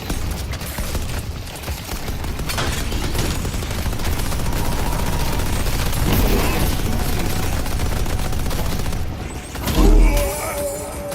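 Turret gunfire in the video game Deadlock, a dense, steady stream of shots and booms that runs almost the whole time at a fairly loud level, with a heavier thump near the end.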